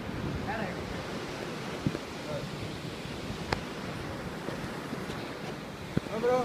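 Ocean waves washing ashore at Karang Bolong beach, a steady wash of surf and wind noise at moderate distance with a few sharp knocks and faint voices in the background.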